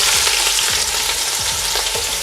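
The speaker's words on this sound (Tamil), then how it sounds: "இப்போ நாங்கள் முதல்ல வெங்காயத்தை போடலாம்" Onions fry in hot oil in a pan with a loud, constant sizzle, while a spatula scrapes and stirs in quick, repeated strokes close by.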